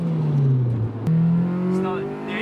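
A tuned Honda Civic Type R engine revs loudly nearby, its pitch sliding down, then jumping up again and climbing after a quick gear shift, with a person's voice faintly under it.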